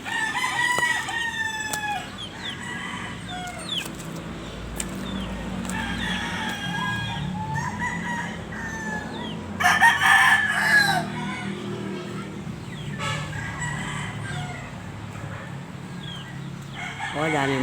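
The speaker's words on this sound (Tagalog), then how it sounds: "Hello, chicken." On a rural farm, chickens cluck and a rooster crows repeatedly at close range, with ducks nearby and people talking intermittently in the background.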